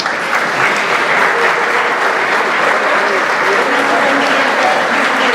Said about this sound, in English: if you could please stand for a round of applause